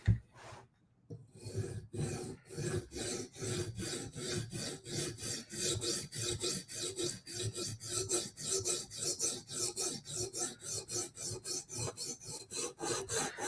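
A knife blade being sharpened on a stone, steady rhythmic rasping strokes repeating about twice per second, close and alone for the whole stretch after a brief pause at the start.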